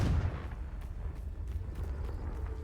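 Confringo spell blast in the video game Hogwarts Legacy: a loud, heavy boom at the start with a rumbling low-end tail that lingers under the action.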